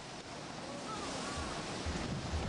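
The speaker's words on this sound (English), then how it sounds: "he watched as the wind loosened the fabric of the structure" Hurricane Iniki's winds on Kauai roar as a steady, loud broadband rush with low gusty rumbles building toward the end, no voices present.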